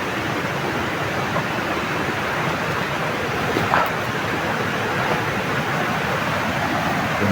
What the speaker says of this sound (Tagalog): Ito yung sapa.